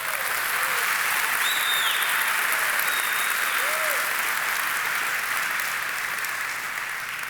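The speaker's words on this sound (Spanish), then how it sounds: "Denle un aplauso al Señor." A church congregation applauding during a sermon, with sustained dense clapping from many hands that holds steady for several seconds before thinning slightly at the end.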